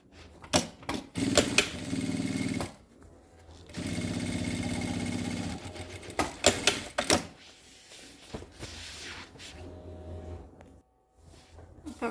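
A sewing machine stitches the side and bottom of a laptop bag in short, rapid bursts of mechanical whirring, separated by pauses and handling clicks, heard close up.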